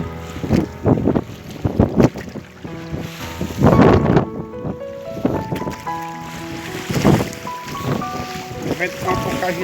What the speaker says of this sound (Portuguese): O vento tá um pouco agitado, mas é assim.